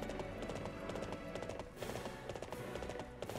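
Rhythmic clip-clop of a galloping horse's hooves in the video game Warriors Orochi 3, steady and close over a music and ambient game backdrop, with no talking.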